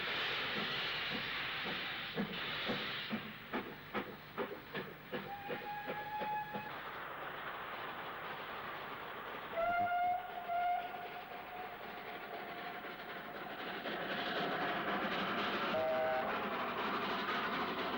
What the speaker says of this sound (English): John Marsh first saw Clovelly heading for Weymouth before the A4 passed by.